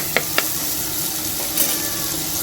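Food sizzles steadily in a hot pan, a constant frying hiss with a couple of sharp utensil clicks early on and a brief stir partway through.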